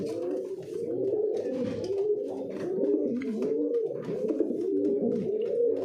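Pigeons coo repeatedly and close up during pairing, with soft, rolling throaty calls cycling in a steady rhythm and no talking over them.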